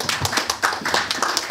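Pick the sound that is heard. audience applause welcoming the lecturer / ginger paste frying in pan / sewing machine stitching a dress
audience applause welcoming the lecturer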